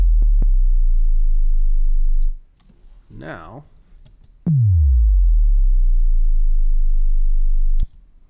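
A synth bass drone with a dramatic downward pitch drop, the Booj sound, cuts out briefly while a voice speaks, then returns with a swooping fall into a steady low hum before stopping.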